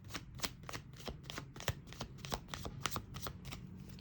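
Tarot cards are shuffled continuously up close, giving a rapid run of crisp papery riffles and soft slaps in an uneven, busy rhythm.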